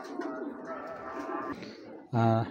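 A big chocolate-coloured female racer pigeon coos softly in short repeated phrases, close by, then a louder sudden harmonic burst near the end.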